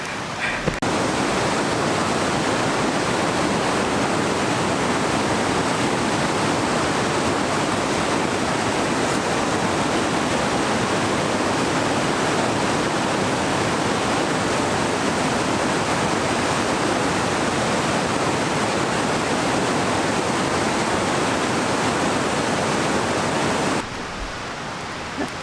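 Steady, loud rushing of a river in the British Columbia backcountry, a dense unbroken roar of flowing water that holds evenly throughout with no voices.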